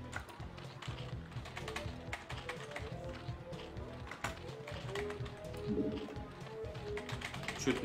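Steady typing on a computer keyboard, a continuous patter of soft key taps throughout under a constant background hum, with no pauses.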